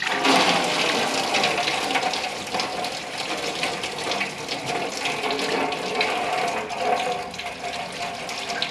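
Old engine oil drains from a Jeep Willys engine into a drain pan, a continuous loud splashing, trickling pour that runs steadily throughout with slight surges and no speech.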